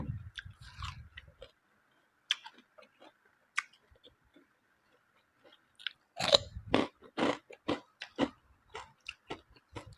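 Someone chews a soft jelly-like gel close to the mic, with wet squishy bites and crunchy clicks coming irregularly, sparse at first and then in quick bursts toward the end.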